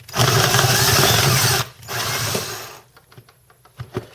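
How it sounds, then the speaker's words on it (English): A power drill grinds into a metal threaded insert lodged in a boat seat, running loud and steady for about a second and a half, then a second shorter burst, followed by a few scattered clicks and clunks. "This one still has the threaded insert in it. I'm going to have to drill it out"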